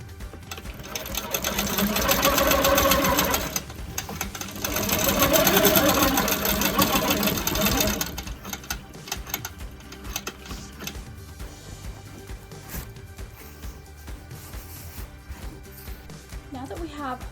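Quilt Maker Pro 18 quilting machine stitching vertical basting on a placemat, a rapid mechanical needle rhythm that runs loud, pauses and resumes, then settles into softer intermittent clatter, with a person talking over it.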